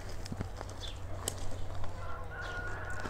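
Chickens cluck softly in an outdoor garden plot being readied for planting, with a few brief, faint calls and rustles over steady low background noise.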